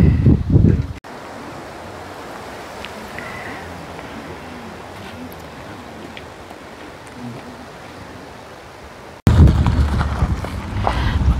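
Wind blows steadily across an open hilltop in the Cypress Hills, a soft continuous rush that holds for several seconds between louder, closer gusts buffeting the microphone at the start and end.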